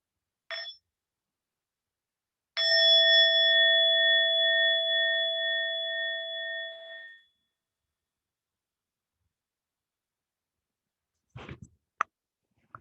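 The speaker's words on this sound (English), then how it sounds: "We'll start with one sound of the bell." A meditation bell struck once, giving a clear, pure ring that hangs for several seconds before fading into silence, with a brief short tone just before and a few faint clicks afterward.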